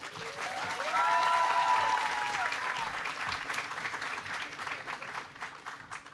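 A large audience welcoming Secretary of State John Kerry to a climate change speech, with sustained loud applause and scattered cheers and whistles that swell early and slowly taper off.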